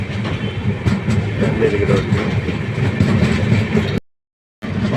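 A train on the Guntur to Ernakulam journey rumbles along with a steady clatter of wheels and a low engine drone, close and continuous before a brief dropout near the end.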